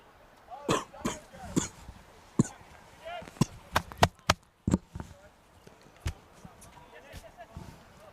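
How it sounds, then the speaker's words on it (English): A man coughs and clears his throat while choking on a mint during a live soccer match broadcast, several sharp close coughs in irregular bursts, some near-silent gaps, with brief speech around them. "Unless you're into ASMR, then you just heard me cough and swallow water."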